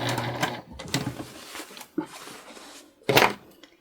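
A sewing machine stitches through cotton fabric for a tote bag, giving short bursts of mechanical whirring with knocks and clunks in between, fairly close and at moderate loudness, with no one talking.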